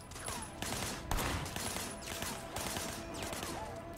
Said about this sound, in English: I want you to put some bullets in a few things.